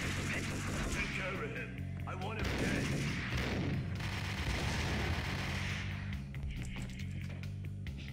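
Ingram submachine gun bursts in the shooter Max Payne, loud sustained rattling fire mixed with heavy game ambience and rumble throughout, no voices.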